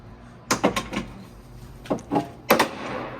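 A few sharp mechanical clunks and latch clicks, close by, in two clusters separated by a short pause, as a Ford Bronco door with a broken fender is worked open.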